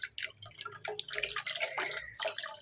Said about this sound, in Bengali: অল্প কটা বাসন ছিল বুঝলে ধুয়ে